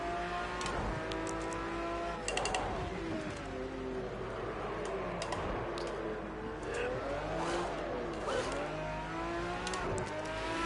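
A race car lapping the Donington circuit, its engine droning loud and close without a break, rising and falling in pitch as it accelerates and shifts gears.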